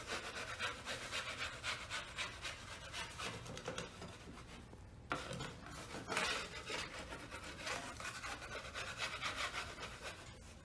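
A tool scrapes ridges of dried joint compound off a water-damaged drywall ceiling repair with steady, close, rasping strokes, pausing briefly near the middle before continuing.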